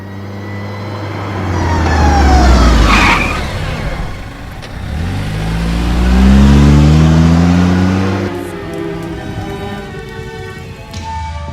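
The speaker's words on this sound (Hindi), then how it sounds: "गाड़ी चलती जा रही है" A car, seen in a Hindi-dubbed South Indian horror film, passes close by and drives off, its engine swelling, fading, then swelling again before settling into a lower steady hum, with no talk.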